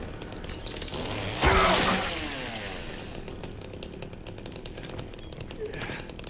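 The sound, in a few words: chainsaw in Silent Hill 2 Remake video game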